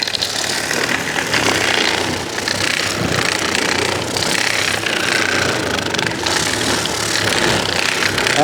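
A roughly 50-year-old pad sander found in the trash runs and sands with a loud, constant buzzing whir close by, steady throughout and without speech.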